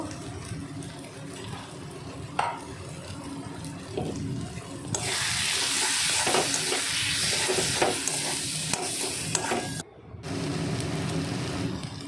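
Ground turmeric, coriander, cumin and chilli powder sizzle and get stirred in a hot pan, a steady loud hiss with scraping and clinks throughout, swelling brighter midway and briefly cutting out near the end.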